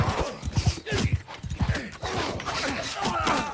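Horse hooves pound in a rapid galloping rhythm in Mount and Blade Bannerlord, loud and close amid battle noise, the beats blurring into a rumbling mix toward the end.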